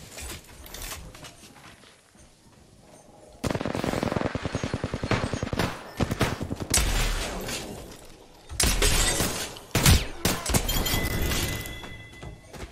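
Gunfire in the Apex Legends video game comes in repeated loud, close bursts of rapid automatic shots, separated by short pauses, with impact thuds and shattering cracks mixed in.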